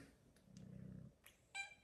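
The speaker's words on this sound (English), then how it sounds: "we get a couple little purrs too" A cat purrs softly and close by for about a second, a low steady rumble that fades into quiet room noise, with a couple of faint rustles afterward.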